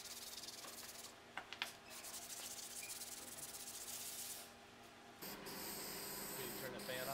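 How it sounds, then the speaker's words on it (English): Quiet, steady scratchy rubbing of hand sanding metal with a 220 grit sanding sponge, interrupted by a couple of knocks, then a louder hissing stretch afterward. "Here I am with a 220 grit sanding sponge, just knocking the high spots off"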